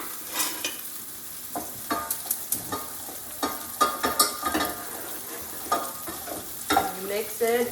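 A spoon stirs olive oil and cornstarch into a roux in a hot pan. Soft sizzling runs underneath as repeated scraping strokes come close and fairly loud, in an uneven rhythm.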